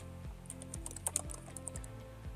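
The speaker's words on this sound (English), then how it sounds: "right-click, edit, or hit F9 on your keyboard" Keys clatter on a computer keyboard, a quick run of close, crisp taps and clicks over a faint low hum, with no voices.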